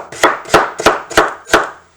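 A knife chops crisscross cuts through a hash ingredient on a board, five firm, evenly spaced thuds in about two seconds, close and loud with no voices.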